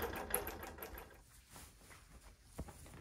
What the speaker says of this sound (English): It does a series of micro stitches at the beginning to really secure the stitches so they don't come undone.